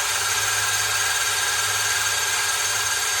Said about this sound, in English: I've got the drill on low speed